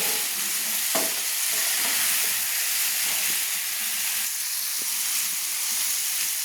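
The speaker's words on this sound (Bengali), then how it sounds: "সেগুলো দিয়ে দিচ্ছি দিয়ে নেড়ে নিচ্ছি মশলার সঙ্গে নেড়ে নিচ্ছি" Fried potato pieces being stirred with spices in a pan for a vegetarian potato and pointed gourd curry, a steady sizzle under repeated scraping stirs, close and moderately loud, with no talking.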